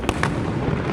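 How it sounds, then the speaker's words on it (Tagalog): New Year's Eve fireworks bursting over a subdivision, two sharp pops in quick succession at the start followed by a rumbling wash of distant crackle. "Mga fireworks dito"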